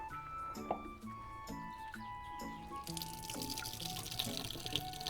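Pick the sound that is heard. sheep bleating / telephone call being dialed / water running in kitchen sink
water running in kitchen sink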